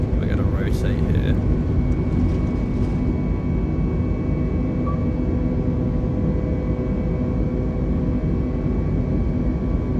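An Airbus A320neo rolls down the runway for takeoff in Microsoft Flight Simulator 2020, engines giving a steady, loud roar with a faint whine throughout, and a few brief high chirps at the start.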